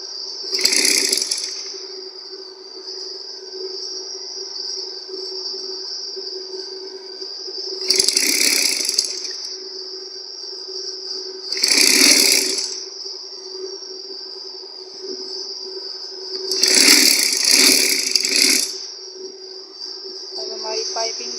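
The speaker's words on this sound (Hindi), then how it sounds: "अब इसी पाइपिंग को हमें यूँ इस तरीके से मोड़कर सिलाई लगा लेनी है।" A sewing machine stitches piping onto a baby girl's summer frock. Four bursts of rapid mechanical rattling, close and fairly loud, are separated by a steady high whir.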